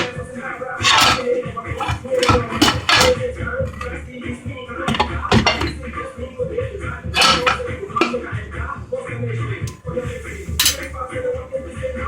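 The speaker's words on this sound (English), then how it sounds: "I'm cutting my onion in slices" A knife chops through onion on a cutting board in a home kitchen, giving repeated sharp taps and clinks of blade and utensils at close range, with sustained clattering throughout.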